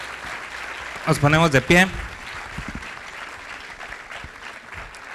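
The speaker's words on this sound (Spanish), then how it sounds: "Un fuerte aplauso, por favor, para los invitados" Film and photography festival audience applauding invited guests, steady clapping under a presenter's amplified voice that cuts in briefly, then continuing alone at moderate level.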